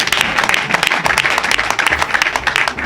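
Audience applause at a provincial youth rally of the Union Sacrée, a dense, steady burst of many hands clapping close by for the full few seconds with no talk over it.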